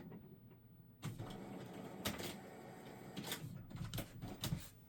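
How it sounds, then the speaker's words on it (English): A printer churns quietly in the background of a room, a faint mechanical whirring with rhythmic clicks and feed noises that start abruptly and continue unevenly. "You can hear the printer churning away in the background."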